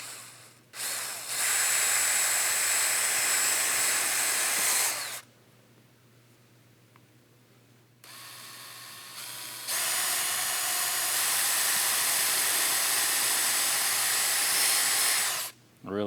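A power drill whirs in two long bursts separated by a quieter pause, loud and close, during installation work on a Winnebago RV.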